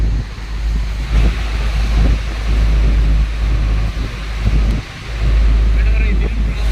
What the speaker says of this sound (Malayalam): വെള്ളത്തിന്റെ ഒഴുക്ക് കണ്ടോ